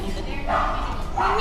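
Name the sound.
dog barking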